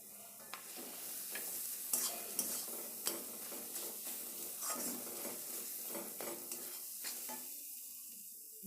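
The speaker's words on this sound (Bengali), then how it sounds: "অল্প একটু জিরে দিচ্ছি" Cumin seeds sizzle steadily in hot oil, a dense continuous frying hiss broken by repeated scraping clicks of a spatula stirring the pan, close and alone with no talk.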